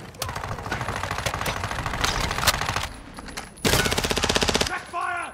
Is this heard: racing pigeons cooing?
no